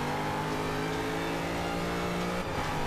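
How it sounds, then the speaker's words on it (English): A 2015 Mustang V8 supercar in the racing game Forza 5 roars at sustained high revs, a loud, steady engine drone with a brief dip in pitch near the end. "just listen to the engine"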